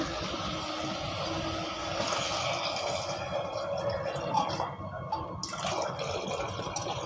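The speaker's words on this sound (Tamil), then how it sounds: "இப்போ நம்ம தண்ணி ஊற்றி வேக வச்சுக்கிறலாம்" Water pouring steadily into a pot, a continuous splashing gurgle with a faint hiss, close by and without speech.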